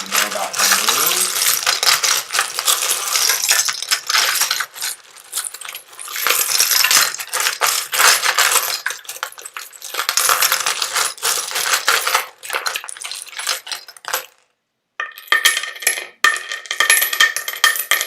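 Divination coins are shaken and dropped in long rattling bursts, a dense metallic clatter that stops briefly and then resumes with sharper jingles near the end.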